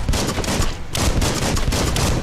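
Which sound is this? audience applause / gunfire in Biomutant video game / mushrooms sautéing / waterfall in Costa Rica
gunfire in Biomutant video game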